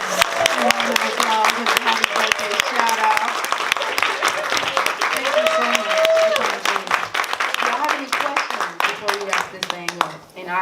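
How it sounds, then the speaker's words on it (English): Audience applause at a Black Lesbian Archives exhibit event in Chicago, a steady wash of clapping lasting throughout with a voice or two talking over it. "can we give a round of applause?"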